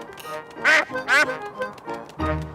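A cartoon duck quacks loudly several times in quick bursts, with cartoon voices talking around the calls.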